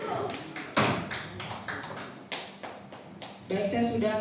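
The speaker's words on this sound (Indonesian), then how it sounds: "saya sudah ketok palu" A wooden gavel is knocked on a table at a formal meeting, several sharp separate raps in an irregular sequence, with a voice speaking briefly near the end.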